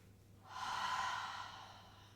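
A single long, deep exhaled breath during a sunrise yoga flow, close and soft, swelling and fading over about a second and a half with no talk.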